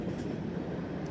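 Rolling steel wheels of a CSX freight train's tail end passing northbound on the Henderson Subdivision near Kelly, Kentucky, a steady, dense rumble with faint clatter filling the whole moment.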